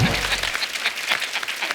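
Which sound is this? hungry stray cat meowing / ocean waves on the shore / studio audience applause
studio audience applause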